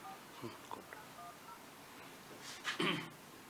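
A telephone number is dialed with a short run of keypad tones, faint and spaced, followed by a louder burst of voices.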